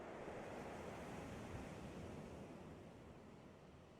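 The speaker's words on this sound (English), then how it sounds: "as you open the window, the actual waves become a little bit more clear" Ocean waves roll in through an opened window as tabletop game ambience, a broad steady wash of surf that fades slightly toward the end.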